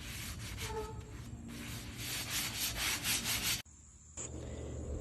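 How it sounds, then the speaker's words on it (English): A sanding block is rubbed back and forth over rusty patio dinette furniture, giving close scratchy strokes in an irregular rhythm, with a short pause near the end before the rubbing resumes. "Here I am using a sanding block to smooth everything out."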